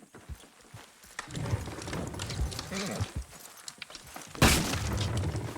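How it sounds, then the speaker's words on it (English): Horses in Red Dead Redemption 2 pulling a wooden structure down, with hoof clops and strain, then a loud cracking crash and rumbling collapse near the end, with voices talking. "Horses will pull it clean down."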